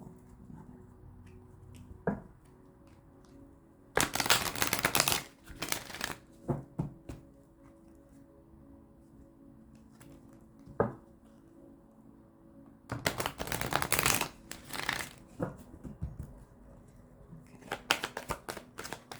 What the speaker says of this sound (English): Here, let me give them a shuffle.